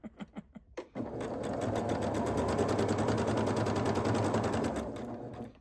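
A few sharp clicks, then a sewing machine stitching quilt block pieces of green and peach fabric whirs steadily and rapidly for about four seconds before winding down and stopping.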